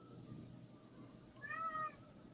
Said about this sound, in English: Oh, but a cat. The cat. That would be the cat, yes.